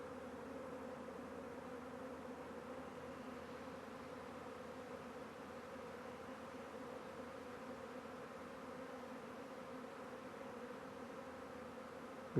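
A honeybee swarm buzzes in a continuous, even hum of many bees, steady and fairly faint throughout with no talk.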